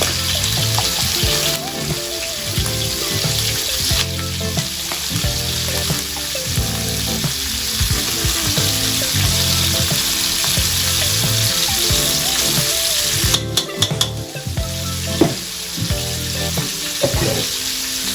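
Minced pork sizzles and fries steadily in a pan for pork stir-fried with shrimp paste, with a continuous close hiss and scattered scraping knocks as the meat is pressed and broken apart; no voices.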